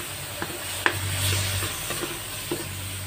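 Pork stir-frying in a pan with pepper and fish sauce, a steady close sizzle broken by several light scraping stirs and one sharper clack, no voices.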